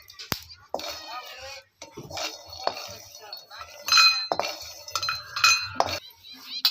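Roasted peanuts scraped out of a cooking pan with a metal spoon while making stuffed capsicum, giving scattered clinks and scrapes of metal on the pan, with a voice talking softly in the background.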